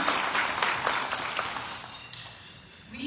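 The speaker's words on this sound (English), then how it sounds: "Can we give them a round of applause?" Applause from the audience at a black-tie gala marking an organisation's tenth anniversary, a dense wash of clapping that is fairly loud at first and slowly fades over a few seconds.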